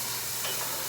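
Bacon sizzling and hissing steadily in a pan as it is stirred outdoors on a breezy morning. The sizzle is a close, continuous wash of noise without a break.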